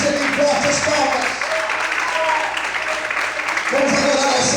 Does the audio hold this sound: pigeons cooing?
no